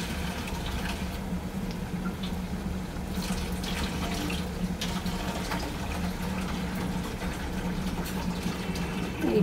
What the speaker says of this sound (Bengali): এবার সামান্য একটু জল দেবো।